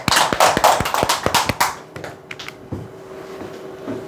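Seminar audience clapping in a brisk burst of sharp, close claps for about two seconds, then a few scattered trailing claps as it dies away.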